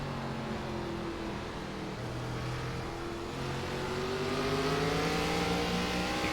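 A NASCAR ARCA race car in iRacing at Langley drones steadily, its engine pitch slowly rising as it accelerates, a continuous close-up motor sound with other engines faintly layered beneath and no talk.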